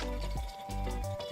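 Water running and dripping from a stained glass grinder during work, a wet liquid trickle with a steady low hum from the machine, close and moderately loud, no talking.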